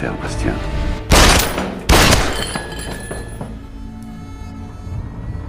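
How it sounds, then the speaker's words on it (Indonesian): Gunfire in an action film, with two sharp loud blasts about a second apart over a dense music and effects bed, followed by a ringing, decaying tail. "Charlie pun menembak mati salah satu dari mereka sebagai tanda bahwa ia tidak main-main"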